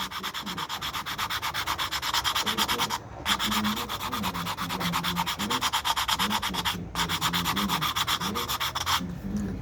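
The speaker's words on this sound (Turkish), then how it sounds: "Sonra bu zımparayla isterseniz bu şekilde bir bu elimdeki zımpara yüzlük zımpara" Steady back-and-forth hand sanding of a mey reed with 100-grit sandpaper, rhythmic rasping strokes close up, briefly pausing twice before resuming.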